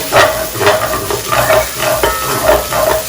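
Onions fry in a pan for Arab kabsa rice soup until wilted, a loud sizzle swelling in a regular rhythm with each stir, up close and without talk.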